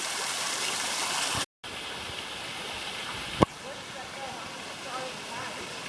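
Turtle Falls and a creek in the Blue Mountains produce a steady rushing wash of falling water, broken by a brief dropout and a sharp knock, with faint voices in the background.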